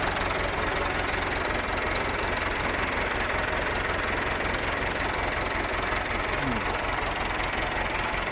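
An ATS 290 tractor engine runs steadily nearby, a continuous loud mechanical drone with a rapid knocking pulse throughout, no break in the sound.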